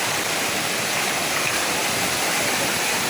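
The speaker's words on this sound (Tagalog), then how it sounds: "Maagos na sapa." A clear mountain stream fed from Tangadan Falls rushes steadily in a continuous, loud, close wash of flowing water with no voices.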